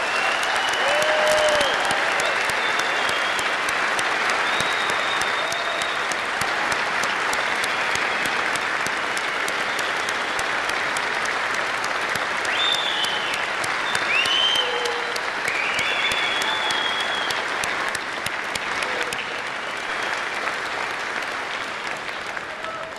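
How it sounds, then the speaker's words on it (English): A large graduation audience at Massapequa High School's Hofstra University ceremony gives ROTC students a long, sustained round of applause, dense and even clapping filling the hall with a few scattered whistles and cheers. "I ask that we please recognize these students with a round of applause"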